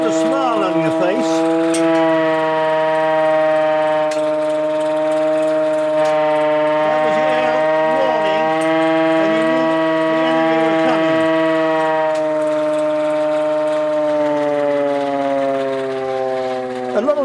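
A civil defense air raid siren sounds the all clear, a loud, sustained steady wail held at one pitch without rising or falling, dipping slightly toward the end.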